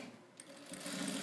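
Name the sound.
sewing machine stitching a thermal lunch bag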